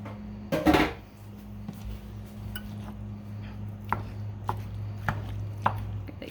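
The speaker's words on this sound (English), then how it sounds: "So I'm just gonna cut this in half" A knife cuts through a lime on a cutting board with one loud chopping thud, followed by a few light clicks and taps over a steady low kitchen hum.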